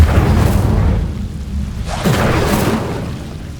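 A fire spell cast in Hogwarts Legacy: a deep booming whoosh of flame at the start that fades, followed by a second fiery burst about two seconds in, both heavy and low.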